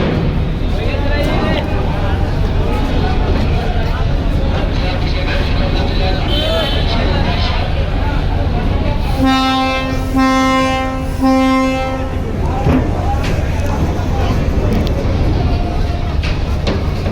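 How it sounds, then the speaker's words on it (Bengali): Passenger launches Parabat 11 and Manami, packed with Eid holiday travellers, reversing out of the terminal to head back toward Dhaka; a loud, steady ship horn blasts for about three seconds over constant engine rumble, crowd noise and talk. "এখন আবার পারাবাদ এগারো এবং মানামি একই সঙ্গে দুইটা লঞ্চই ব্যাক গিয়ার করে চলে যাবে"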